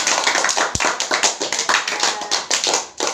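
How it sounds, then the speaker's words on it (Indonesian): Children in a classroom clap their hands in a quick, uneven burst of close, sharp claps that carries on steadily with short gaps. "Tepuk tangan untuk kita semua."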